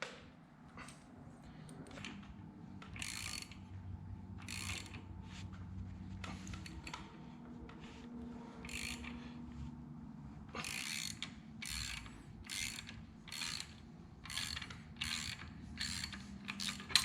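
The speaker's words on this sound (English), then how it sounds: "So now I can take off this pulley and then I can take off the timing cover and we can pull this cam out." Pulley puller working a pulley off a C10 LS engine, repeated ratcheting clicks and metallic cranking in quick regular bursts, with a quieter mechanical stretch before them, close-up and without speech.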